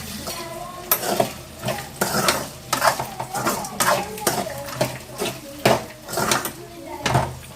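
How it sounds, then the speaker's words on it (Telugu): Chili powder being stirred into okra frying in a pan, with a spoon scraping and clinking against the metal in repeated strokes over a steady close sizzle. "కారం వేసుకొని ఒకసారి మిక్స్ చేసుకొని"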